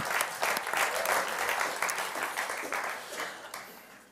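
A church congregation claps during a sermon, loud bursts of applause at first that gradually thin and fade, with some individual claps standing out near the end.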